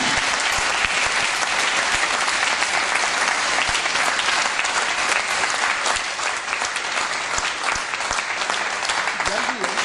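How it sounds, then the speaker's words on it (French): Dense, loud applause from an audience at a municipal election campaign meeting in Stains, France, sustained steadily for about ten seconds, with crowd voices mixed into the clapping. "Vous avez beaucoup de vivacité dans les applaudissements"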